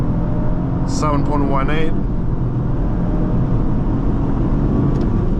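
A 2024 Lexus GX550 accelerates hard from a standstill toward 60, with loud, steady engine and road roar filling the cabin while a voice speaks briefly early on.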